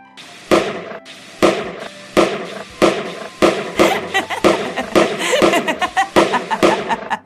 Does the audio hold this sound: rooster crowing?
no